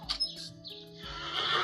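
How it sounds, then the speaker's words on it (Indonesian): A horse in a video game whinnies, a bright, wavering neigh that rises and falls, followed by a rushing noisy tail; no talking. "ini bunyi kuda yang ini"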